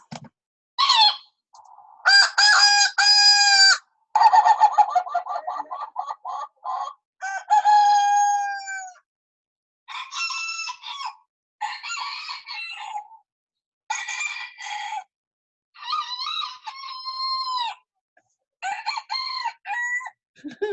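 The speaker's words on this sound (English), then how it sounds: "now we're going to listen to some roosters and see what we think of their noise" Roosters crow again and again, loud and near, each call a long rising and falling cock-a-doodle-doo, with short quiet gaps and some clucking between.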